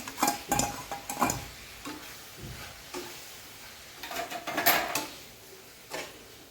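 Roasted semolina being stirred into cooked onion and tomato for upma in a pan, giving soft scraping and sizzling strokes in uneven bursts, fairly close and clear with no talking.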